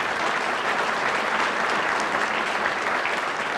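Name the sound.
audience applause for sponsors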